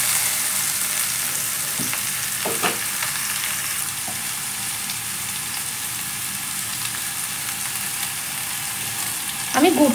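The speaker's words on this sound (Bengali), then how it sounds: "আমটা ভালো করে তেলের সঙ্গে ভাজা ভাজা হয়েছে" Green mango pieces fry in oil with jaggery in a pan, giving a steady, even sizzle throughout with occasional soft clicks of stirring.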